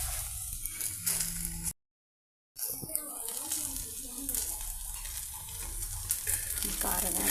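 Okra fries in a pan with chili powder, a continuous close sizzle with stirring scrapes, broken by a short silent gap, while a voice talks intermittently over it.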